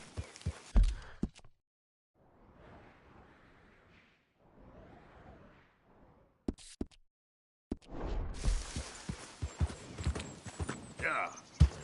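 Horse hooves clip-clopping in soft, quick bursts separated by silent gaps, followed by louder, busier hoof and movement sounds mixed with speech.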